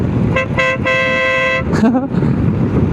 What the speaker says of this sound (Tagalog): Parang busina ng truck.